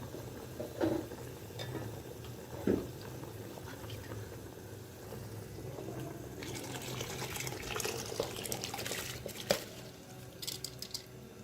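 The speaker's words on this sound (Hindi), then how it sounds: "आप देख सकते हैं कि पानी में उबाल आ गया है" Water comes to a boil in a cooking pot for beef yakhni pulao just before rice goes in, a faint, steady bubbling hiss with a few soft clinks, low in level throughout.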